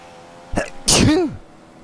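One sharp sneeze, preceded by a quick inhaled catch and ending in a loud, voiced burst, close and clear against a quiet background.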